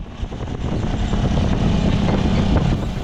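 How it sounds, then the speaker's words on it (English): A turbocharged Honda Pioneer 500 side-by-side driving with heavy buffeting wind noise, its engine droning loudly and continuously close to the microphone, with no voices heard. "I think it's definitely worth a little wind noise to be able to hear that sweet blow-off valve go every time I let off the gas."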